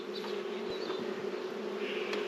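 A close, constant hum of honeybees swarming around a hive frame, individual buzzes rising and fading over the dense drone.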